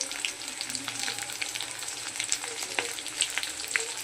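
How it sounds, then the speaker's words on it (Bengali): Onion and green chillies frying together in a pan, a continuous close crackling sizzle with light stirring scrapes and small pops, moderately quiet and free of speech. "এই যে পেঁয়াজটা ভাজা হয়ে গেছে আমি এবার দিয়ে দিচ্ছি কাঁচা লঙ্কা"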